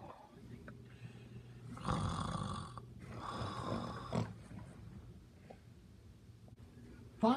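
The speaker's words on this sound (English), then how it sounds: "You've been snoring all night or something?" A roommate snoring at night: slow, rough breathing snores rising in two louder bursts, fairly close in a quiet room, fading to softer breaths, with a brief sharp noise at the end.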